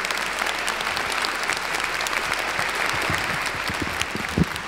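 Sustained applause from a large audience at a charity Christmas and New Year concert, dense steady clapping throughout with no voices over it.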